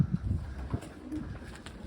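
Soft, low pigeon coos repeat over a hushed outdoor background, close and fairly quiet.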